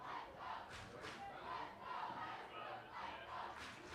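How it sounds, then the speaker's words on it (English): A high school football crowd in the stands chants "Let's go Ashbrook" in a steady rhythmic wash of voices, heard from a distance under a continuous crowd murmur. "Let's go Ashbrook chant."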